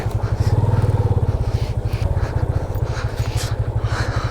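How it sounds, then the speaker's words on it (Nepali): A motorbike engine idles close by with a steady, throbbing pulse, then runs on with a slightly uneven putter while it is being parked, loud throughout. "सबसे फर्स्टमा चाहिँ बाइक पार्किङ गर्नु पऱ्यो"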